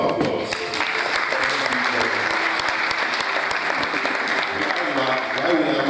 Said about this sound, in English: So the program deserves a more round of applause